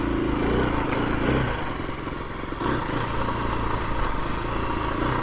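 A 2021 KTM 350 EXC-F dirt bike idling just under 2,000 RPM when new, a close, steady rapid putter with light mechanical clatter and a brief dip in level midway, no voices.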